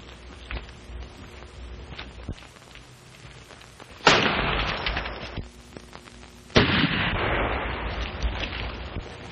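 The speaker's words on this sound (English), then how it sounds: "The shot came from back of those rocks." Gunfire in a 1930s western bandit film, with two sharp loud blasts that ring out and decay into a long rumbling tail, set against a quieter outdoor background with no talking.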